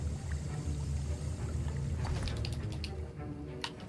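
Liquid swirls and sloshes steadily in a cauldron as a potion is stirred in the video game Hogwarts Legacy, with low bubbling and a few soft drips near the end, no talking.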